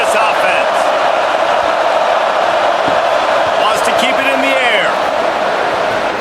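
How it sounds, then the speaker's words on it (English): A stadium crowd roars steadily at a College Football 27 game between Maryland and Notre Dame, a loud, continuous wash of cheering that carries the whole time, with a few whistles and shouts rising near the end. "This crowd trying to make life miserable for this offense."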